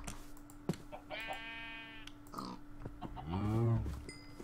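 Farm animals in a video game, with sheep and cows, give short bleats and moos, a couple of distinct calls, close and moderately loud over quiet background hum.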